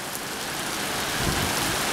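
A heavy rainstorm in Texas pours down in a steady, loud hiss of rain hitting surfaces, unbroken throughout.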